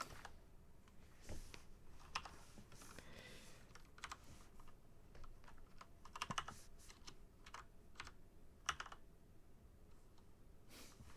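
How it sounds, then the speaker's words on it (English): Quiet, rapid typing on a computer keyboard: irregular bursts of crisp key clicks with brief pauses, close to the microphone and with no voices. "Goku's typing."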